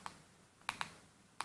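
Typing on a computer keyboard: four quick, crisp key clicks, close and fairly soft, with one stroke, then a pair, then a final tap after a short pause, and no voice.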